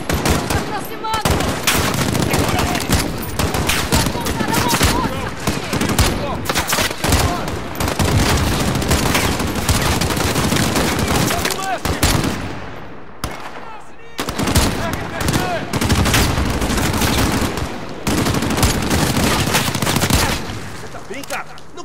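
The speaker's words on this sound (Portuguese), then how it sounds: "De onde estão atirando?" Near-continuous machine-gun fire and gunshots from the video game Call of Duty Modern Warfare, loud and sustained with brief lulls, while voices shout over the battle.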